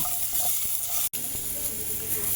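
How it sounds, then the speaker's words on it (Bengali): Vegetables frying lightly in a pan for a chicken dish, heard as a close, even sizzle with faint stirring scrapes and one abrupt cut in the middle. "আমি একটু সবজিগুলোকে এইভাবে হালকা করে ভেজে নেব"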